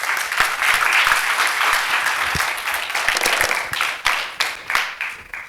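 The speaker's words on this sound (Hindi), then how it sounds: "चलो जोरदार तालियां सभा के लिए।" Loud applause from an assembled audience at a Jeevan Vidya introductory camp in a Raipur dharamshala hall, steady dense clapping that holds for several seconds and then breaks into a few scattered, fading bursts.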